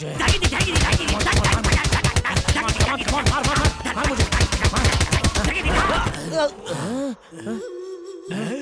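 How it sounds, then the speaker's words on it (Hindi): Rapid, loud chopping of vegetables in a comedy horror film scene, a dense rhythmic burst of hard strikes lasting several seconds with voices talking and shouting over it, then giving way to speech. "ए जल्दी जल्दी सब्जी काट रहे।"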